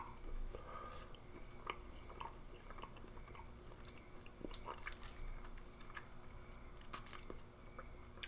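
Strong mint sugar-free gum with a crunchy outer shell, from a British cold-climate ration pack, chewed close up with steady wet crunching and biting and no talking.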